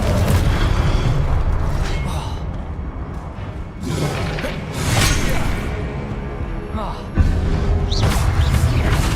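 Confringo blasting spells explode repeatedly in Hogwarts Legacy, loud booming blasts and whooshes against statues over dense continuous game noise, with a voice shouting the spell.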